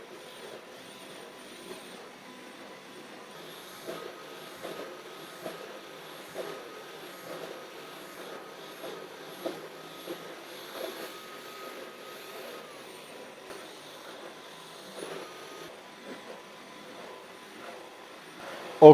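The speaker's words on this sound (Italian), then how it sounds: "Per il Dyson utilizzeremo l'impostazione automatica perché lui in base alla superficie va a regolare anche la potenza." A Dyson V12 Slim Absolute cordless vacuum cleaner on its automatic setting runs continuously with a steady airy whine, small periodic clicks and bumps as it moves across the floor, and a sharp knock at the very end.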